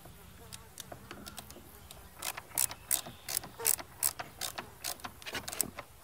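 Bolts on a coal-burning stove aboard a wooden boat are being snugged down by hand. Sharp, quick metallic clicks, like a ratchet, come in irregular bursts that grow denser toward the end, close and fairly quiet.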